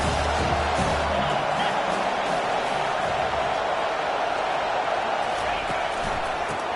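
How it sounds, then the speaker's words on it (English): A football stadium crowd roars in a steady, distant wash of cheering and noise that runs through the whole stretch, with a commentator's voice on top. "This crowd knows when to bring it."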